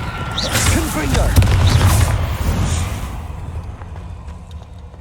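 A booming Confringo spell blast in Hogwarts Legacy, set during a cave fight, one heavy impact swelling then fading under continuous rumbling combat noise, with a voice calling out.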